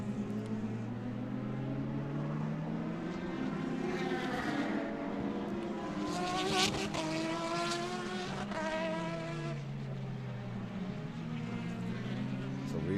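Race cars at speed on the Mondello Park circuit, several passing engines whose pitch rises and falls as they go by, heard under steady commentary.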